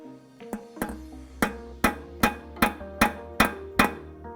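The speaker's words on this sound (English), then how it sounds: "We're gonna tap that in with a hammer and rotate it to the left and see what happens." A hammer taps a bolt extractor into a broken bolt in about ten sharp metallic strikes, close and loud, landing at a steady, slightly quickening rhythm with ringing decay after each blow.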